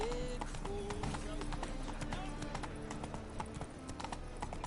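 Roach, a horse in The Witcher 3: Wild Hunt, gallops with a rapid, continuous clip-clop of hooves, close and steady beneath game music and a talking voice.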